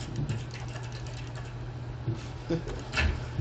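Fast keyboard typing clatters at a steady pace over a low constant hum, with a few louder keystrokes near the end.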